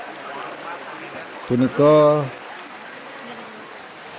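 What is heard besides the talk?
very heavy rain falling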